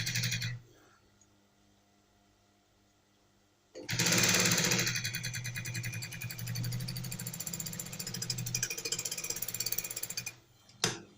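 A sewing machine stitches a double placket, its needle hammering in a rapid, close, loud mechanical run after a quiet stretch, then stopping abruptly with a final short burst.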